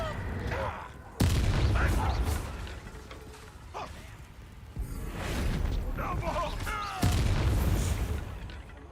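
Three heavy booming blasts from the Bombarda explosion spell in Hogwarts Legacy, each sudden and loud and then rumbling away, with voices and combat effects between them.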